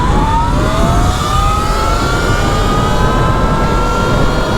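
A 2025 Surron X and an Eridepro 3.0 electric dirt bike racing, a loud steady motor whine rising in pitch as they accelerate together, with no talking.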